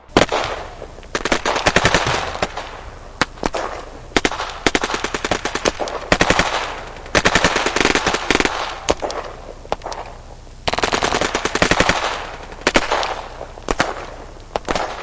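AK-47 gunfire during a Georgia shootout with police, caught on a bodycam: loud, close bursts of rapid automatic shots repeat again and again with short pauses between them.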